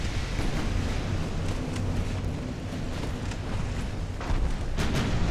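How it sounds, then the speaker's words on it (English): Naval broadsides thunder through a Port Arthur battle game, a steady churning rumble of heavy gunfire and distant booms with occasional sharper cracks, moderately loud and without talk. "A lot of broadsides."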